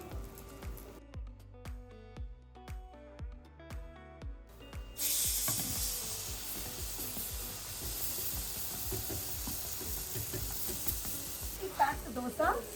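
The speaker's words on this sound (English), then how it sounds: "We pack the dosa, so the curry is nicely embedded into the dosa and it cooks." Curry and dosa sizzle and fry in a hot pan in a home kitchen, a steady loud hiss starting partway through after a run of sharp tapping and stirring clatter, then continuing alone without talk.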